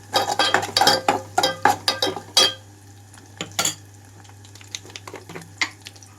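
Crushed garlic and onion frying in a pan for a Telugu bottle gourd curry, with a burst of spatula scrapes and clinks against metal in the first few seconds, then quieter scattered taps over a faint low hum.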